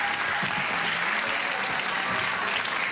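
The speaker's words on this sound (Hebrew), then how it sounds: "תנו להם קצת מחיאות כפיים." Steady, dense audience applause from a live crowd at a magic show, continuous hand clapping filling the room throughout without a break.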